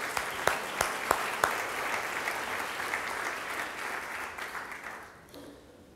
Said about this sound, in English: I just want to give a little round of applause for that effort